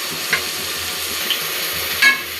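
Mint, coriander and curry leaves sautéing in a pan while being stirred, a steady soft sizzle with a few light utensil clicks and scrapes, close and without speech.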